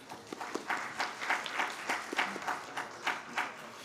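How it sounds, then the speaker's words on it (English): An audience at a corporate mid-year review event applauds as a general manager comes up to give away lucky draw prizes, with sparse, distinct claps popping at an uneven rhythm and fairly quiet in the room. "A round of applause for Terence."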